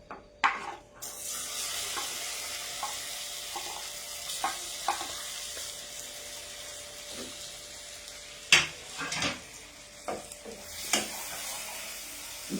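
Two bananas frying in a pan for a roast, a steady soft sizzle broken by scattered scrapes and clinks of stirring, close and moderately quiet with no talk.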